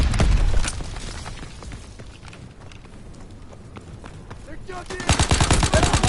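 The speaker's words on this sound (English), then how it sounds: "Those bloody incendiary shotguns" Incendiary shotguns and other weapons firing in the World War II shooter Call of Duty: WWII give a dense clatter of gunfire and battle noise, loud at the start, thinning out in the middle and then a fast burst of shots at the end.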